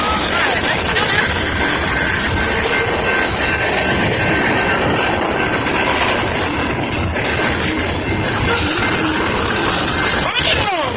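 A BNSF freight train races past a junction at night, a loud continuous roar of wagons rolling by up close with rattling wheels and a high squealing tone running through it, steady for the whole stretch.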